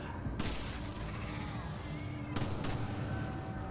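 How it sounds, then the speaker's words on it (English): Gunfire aimed at an explosive barrel in Resident Evil 5 rings out as two sharp, fairly faint reports, with another burst close behind the second, over a low game background hum. "I'm shooting the barrel"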